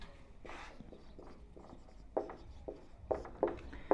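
A pen scratches across paper while a maths exercise is written out by hand. The soft strokes and scrapes come close up and quiet, with a few sharper taps near the end.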